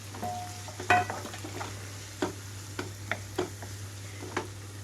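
Broad beans stirred into a pan of tomato curry cooking on the stove, a steady sizzle with scattered scrapes and clinks of the spoon against the pan.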